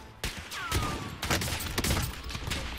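Rapid bursts of gunfire in Call of Duty Warzone during a Halloween event in Verdansk, several sharp shots crackling close and loud over a dense game background.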